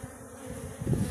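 Honeybees buzz near blooming willow on a warm Ural spring day, a brief close droning hum that swells slightly toward the end.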